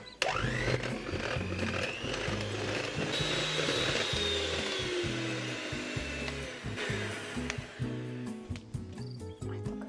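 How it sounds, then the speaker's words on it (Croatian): An electric mixer whips vanilla cream, whirring steadily, its motor droning with a rattling, pulsing hum and rising whine, continuous for several seconds before cutting into irregular clatter. "I sad ću, znači, da ovo izmiksam, da izmutim."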